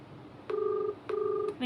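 A phone call rings out on the line, two steady electronic ringback tones, each under half a second, separated by a short gap and heard clearly through the handset in an otherwise quiet room.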